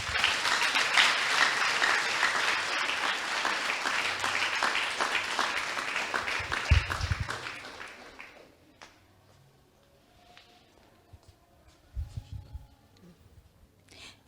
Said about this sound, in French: Si vous avez apprécié, applaudissez encore une fois, chaudement.